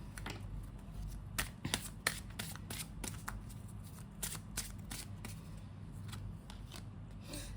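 Tarot cards are shuffled by hand ahead of a reading, giving soft, continuous riffling and flicking with repeated crisp snaps, close and fairly quiet.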